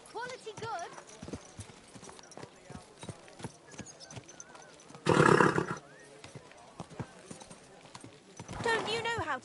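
Horse hooves clip-clop at an even pace through a medieval town in Kingdom Come: Deliverance 2, with two loud neighs, one midway and one at the end, under ongoing speech from people nearby.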